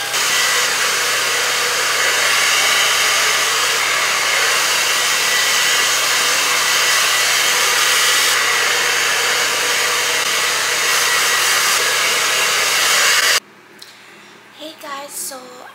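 A hair dryer runs loud and steady as someone dries their hair, a constant airy roar that cuts off abruptly near the end, followed by a few quiet sounds.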